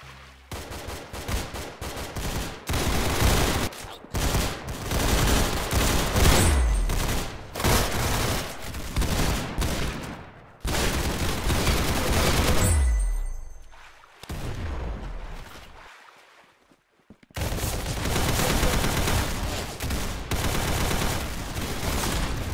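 Rapid automatic gunfire and explosive booms from the Roblox shooter Arsenal, loud and nearly continuous, with short pauses between intense bursts.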